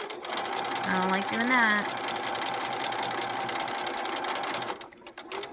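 A sewing machine runs continuously while stitching a quilt block, a rapid steady mechanical whir and needle chatter close by, with a person talking over it briefly before the motor stops near the end.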